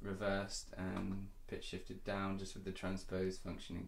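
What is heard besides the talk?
None of the usual background noises is heard.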